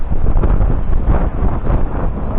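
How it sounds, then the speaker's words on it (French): Strong wind of 20 to 25 knots roars across the microphone while a sailboat crosses about one-metre swells, giving a loud, steady, buffeting rush throughout. "Allez, là ça souffle."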